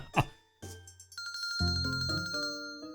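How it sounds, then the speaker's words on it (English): A phone chime goes off in the middle of the night: a brief tap, then a bright multi-note ringing melody with layered tones that builds and holds clearly, loud and alone with no speech. "I was startled by the sudden chime from my phone"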